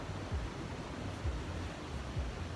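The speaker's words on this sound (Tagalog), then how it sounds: "Rinig na rin dito yung ingay ng ulan." Heavy rain makes a faint, dense broadband wash heard from indoors. Low rumbling thuds sound at intervals underneath, and no voices are present.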